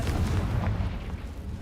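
Confringo fire spell exploding in Hogwarts Legacy, a deep, rumbling burst with a heavy low-end boom that holds steadily through the short moment without any talk.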